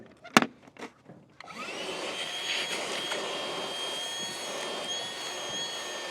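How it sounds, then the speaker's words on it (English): A few knocks and clunks, then a shop vacuum switches on inside a 1966 Ford station wagon and runs with a steady, whining roar that holds at a constant pitch. "we're just gonna take our little shop vac here"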